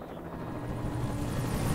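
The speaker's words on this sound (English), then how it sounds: "here comes the one helicopter this town has" Helicopter approaching in the Alan Wake video game, a steady rotor drone that grows slightly louder over the short stretch, alone without talking.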